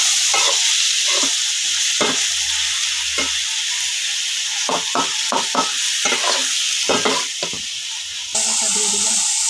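Onion paste frying with meat in a pan, a constant sizzling hiss broken by repeated scraping and clinking strokes of a spatula as the mixture is stirred, close and fairly loud, without talk.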